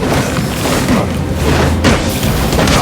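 Buildings blowing up in Batman Arkham Origins, a dense rumbling boom with crashing debris rolling on for several seconds, loud and heavy without any voices.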